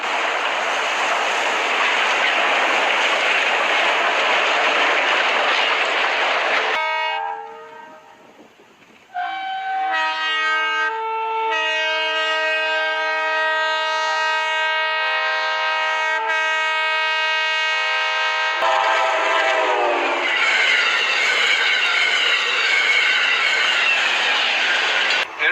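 A snow train plows along its tracks through walls of snow with a loud, broad rushing roar. A long, sustained horn blast sounds in the middle, then the heavy roar of the train returns.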